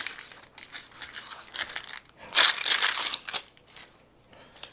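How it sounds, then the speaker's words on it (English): A knife crunches and crackles through the ends of a smoked onion in a few close, crisp cuts, with a louder burst of crunching midway and quiet pauses between. "I just like to start by just cutting off the ends here."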